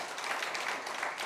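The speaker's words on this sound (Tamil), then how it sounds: "மீண்டும் ஒரு முறை கைகளை உறக்க தட்டுங்கள்." The audience at a Tamil literary stage event claps in a soft, brief patter of applause heard at a distance, with no talking.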